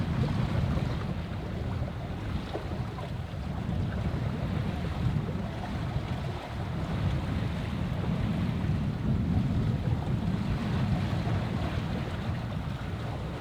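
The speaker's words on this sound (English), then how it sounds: "when the wind does come, it comes really well" Wind rushes steadily past a sailing boat, with broadband microphone buffeting and the wash of water along the hull, a constant, fairly loud roar that barely varies.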